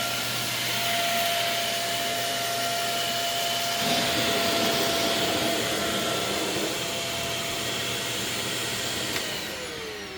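A Shark Navigator NV22 upright vacuum cleaner runs across a living room floor, a loud, steady whining roar with small shifts in tone as it is pushed back and forth, close and alone.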